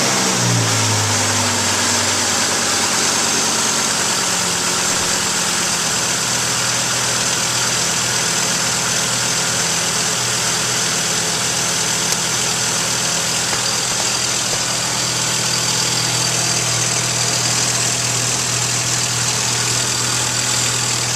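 A Volvo 850 engine idles steadily during a coolant flush, a continuous low rumble with a faint high whine, holding even and close throughout with no speech.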